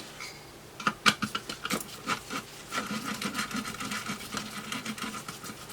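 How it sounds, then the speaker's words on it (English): An 8mm nut driver unscrewing the rear panel connections on a Keithley 181 nanovoltmeter, with a burst of sharp metallic clicks and scrapes followed by steady close-up rubbing and turning noises. "Nut drivers, brilliant things to have."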